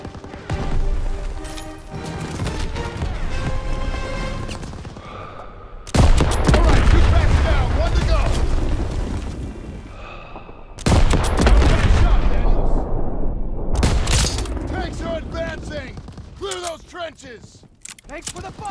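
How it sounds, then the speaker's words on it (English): Heavy gunfire in Call of Duty WWII during Operation Cobra, dense bursts of rifle and machine-gun fire with booming impacts, coming in loud waves separated by brief lulls, with shouted voices over the battle. "Infantry in the open! Taking heavy fire!"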